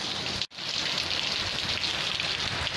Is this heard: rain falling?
yes